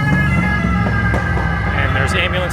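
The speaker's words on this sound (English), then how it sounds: "there's ambulances everywhere" Ambulance sirens wail on a busy street in Rome, a steady tone blending with loud traffic and city hum over the whole moment.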